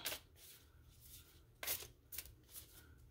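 Soft, close card shuffling: several quick riffling bursts separated by brief pauses, quiet overall with no talking.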